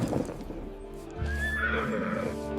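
A horse neighs loudly and close by, a drawn-out whinny over low ambient rumble, set among Persian horses in a bustling ancient Assyrian marketplace.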